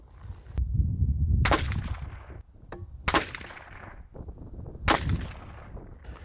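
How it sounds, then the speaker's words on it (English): Shots from a .17 caliber rifle fired outdoors during an accuracy check for small game hunting: three loud, sharp cracks spaced about 1.5 to 2 seconds apart, each with a trailing echo, and no talking. "Now we're going to shoot the 17 and see what kind of groups we get with it."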